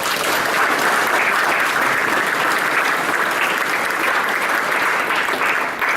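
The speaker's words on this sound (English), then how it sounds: "Let's give them a round of applause." Audience applause at a live gathering, a dense, steady roar of many hands clapping that holds at full strength for about six seconds without letting up.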